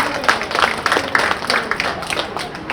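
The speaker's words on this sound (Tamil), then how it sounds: "எனக்கு இல்லாவிட்டால் கூட ஜான் மெக்கார்த்திக்கு ஒரு கைத்தட்டல் கொடுங்க." An audience at a Tamil debate event at a book fair applauds in a dense, steady wash of clapping that stays fairly loud throughout the short stretch, with no clear speech on top.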